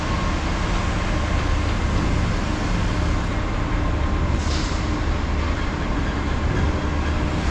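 A steady, loud rumbling roar of a light rail train rolling past close by on a Macau street, constant throughout with no speech.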